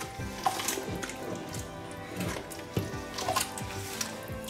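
Food stirred in a frying pan for Congolese-style fumbua, soft scraping strokes and light clinks over a faint steady sizzle, close and without talk.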